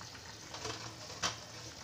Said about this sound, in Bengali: এবার আস্তে আস্তে আমি ভেজে রাখা মাছগুলোকে দিয়ে দিচ্ছি।